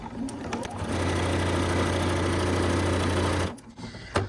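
A sewing machine runs fast and steady for about three seconds while stitching a zipper pouch lining, giving a close, even mechanical whir, then stops with a few light clicks.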